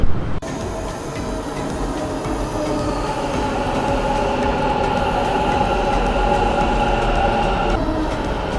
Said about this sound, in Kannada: ಅಂತೂ ನಮ್ಮ ಮೆಟ್ರೋ ಟ್ರೈನ್ ಬಂದೇ ಬಿಡ್ತು